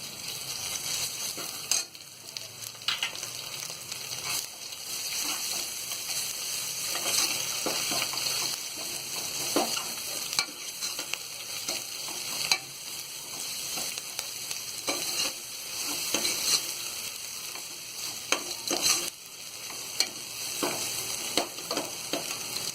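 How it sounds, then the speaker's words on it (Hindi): Ginger garlic paste sizzles and spits in hot oil while a spoon stirs and scrapes the pan repeatedly, close up and continuous, no voices. "ये अदरक लहसुन का पेस्ट भी भुन गया है"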